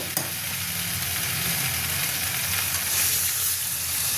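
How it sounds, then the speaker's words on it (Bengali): Water hits a hot pan of egg omelette curry, setting off a loud, steady sizzle and hiss that runs evenly throughout, close up, with no talking. "এবার জল দেবো"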